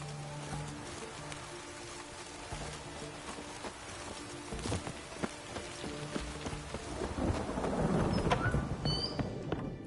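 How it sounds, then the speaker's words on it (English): Rain patters and thunder rumbles during a storm in the video game The Witcher 3, with a steady wash of rainfall that swells louder toward the end and low rolling thunder underneath. "A storm, damn it."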